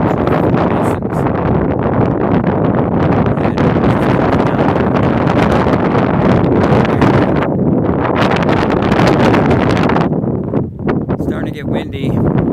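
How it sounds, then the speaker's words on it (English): Strong desert wind buffets the microphone in a loud, continuous roar with rough gusts, easing briefly near the end. "Starting to get windy."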